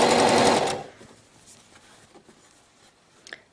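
A sewing machine runs fast and loud for under a second while stitching a girl's circular-cut skirt with a ribbed waistband, then stops, leaving faint handling noises.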